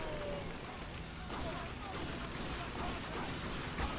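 Gunfire in Spec Ops: The Line, a dense continuous wash of shots and explosions from a game battle, loud throughout with no clear gaps between bursts.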